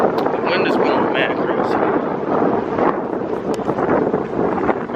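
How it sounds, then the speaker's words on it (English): Strong wind gusting on a morning walk through woods and a park, roaring and buffeting the microphone loudly and continuously for several seconds; someone talks briefly in places. "The wind is blowing crazy, bro. The wind is blowing mad"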